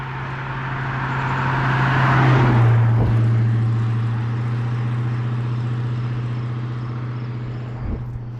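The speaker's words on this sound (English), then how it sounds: "Muscle car." Convertible muscle car rolling past on a street, its engine rising in a deep rumble that peaks and fades as it goes by, fairly close and loud with no voices over it.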